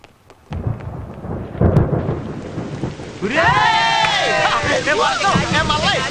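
A thunderstorm with heavy rain hissing steadily while deep thunder rumbles and rolls; voices talk and call out over the storm throughout.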